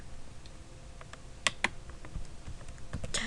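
Someone types on a computer keyboard nearby, giving irregular light key clicks with a few sharper taps in a quiet room, and no one speaks.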